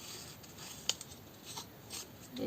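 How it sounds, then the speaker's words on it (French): Scissors trim the edges of a folded paper pouch, giving a few faint, quiet snips and paper rustles close by in an otherwise hushed room. "des ciseaux, on va venir couper"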